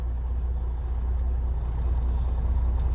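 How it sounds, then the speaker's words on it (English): Freightliner Cascadia truck engine in first gear straining against the trailer brakes, a steady low diesel drone heard close and continuous, with no talking. "I'm going to listen for the engine to pull against the trailer brakes."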